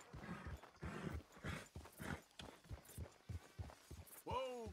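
Horse hooves clip-clop in Red Dead Redemption 2 as a spotted horse walks along, a steady rhythmic beat of close hoof falls; a short vocal sound closes it.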